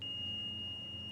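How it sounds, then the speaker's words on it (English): A steady single-tone beep sounds in a flight simulator cockpit on a Bergen to Oslo flight, held continuously over a low engine-like hum. "There's the beep."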